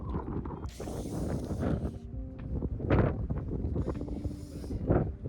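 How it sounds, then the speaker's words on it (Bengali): Strong, cold wind at Kaho village near the Indo-China border: loud, continuous buffeting gusts roar close against the microphone, surging and easing, with no talk. "এখানে এত হাওয়া হচ্ছে"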